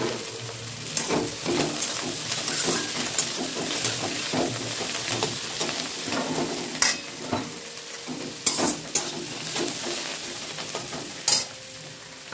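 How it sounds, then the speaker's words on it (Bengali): Chopped tomato and coriander fry in hot mustard oil, a steady close sizzle broken by frequent stirring scrapes and occasional sharp clicks of the utensil against the pan. "আমি সর্ষের তেলে রান্নাটা করছি। দেখো বন্ধুরা আমি এবার টমেটো কুচি, ধনেপাতা কুচি দিয়ে দিলাম।"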